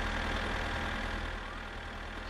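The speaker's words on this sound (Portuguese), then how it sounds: "enquanto eu ando de trator" A tractor engine in the game My Summer Car runs at a steady low idle-like rumble, continuous and fairly loud, with a faint knocking pulse and no talk.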